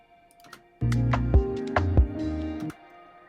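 A small hi-hat fill in a beat, crisp ticking hits over a sustained bed of low chords and bass, running for about two seconds then stopping.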